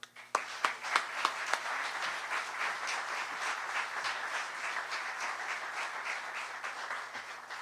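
Audience applause at a public event in Marathon, Florida, honoring support for Monroe County and Everglades restoration: a few sharp early claps, then steady, moderately loud clapping from a crowd that holds throughout.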